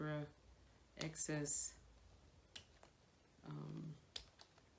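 The excess tail of a plastic zip tie is snipped off while building a DIY moss pole, heard as a couple of short, sharp clicks between bursts of quiet speech.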